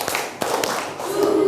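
Children in a grade 5 classroom clap their hands in a short burst of sharp claps, with a teacher's voice speaking around them.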